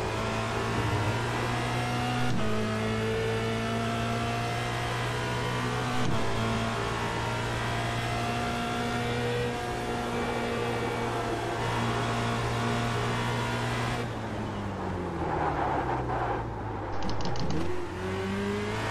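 Formula Renault 2.0 race car engine in the iRacing simulator, a loud, steady high-pitched drone that climbs and drops through gear changes and a sharp dip near the end, with no talking.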